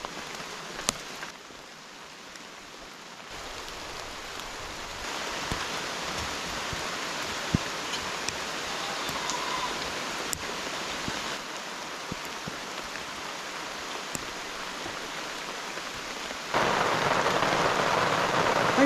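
Steady rain patters on leaves and a roof over a campsite toilet build, a continuous wash of drops that swells louder near the end, with no voices.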